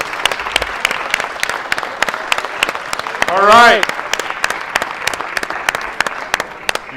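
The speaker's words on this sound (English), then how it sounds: "Give them a round of applause." Audience applause at the finals of a FIRST VRC robotics league event in El Paso: sustained dense clapping with sharp individual claps throughout, a short rising electronic-sounding sweep in the middle, and a person speaking over it.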